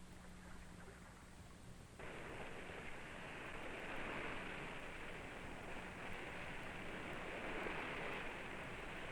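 Waves wash steadily on open water in an old 1965 educational film, a broad continuous rushing noise that grows fuller after a couple of seconds and holds evenly with no talk.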